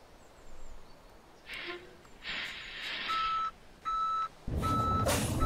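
Kenworth W900 truck in Euro Truck Simulator 2 reversing, its backup alarm sounding in repeated steady beeps over a low engine idle, with a louder burst of engine or air noise near the end.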